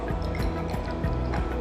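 Water pouring into a glass test tube during a school chemistry practical, a steady gurgling fill with dripping, bubbling pulses running close and continuous for under two seconds.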